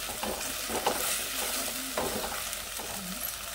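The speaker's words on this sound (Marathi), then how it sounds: "आता यामध्ये ना स्लीड केलेली हिरव्या मिरच्या घालते आणि चांगलं परतून घ्यायचं" Slit green chillies being sautéed in a pan give a steady sizzle and fry with a few stirring scrapes and clinks throughout. The sound is close and continuous, and no one speaks.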